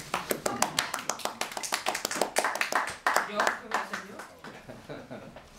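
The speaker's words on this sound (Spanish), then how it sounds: "Un aplauso para la secretaria" A small group claps for a secretary at a Kabbalah talk, clear distinct handclaps in a loose rhythm that swell and then thin out, with voices faintly underneath.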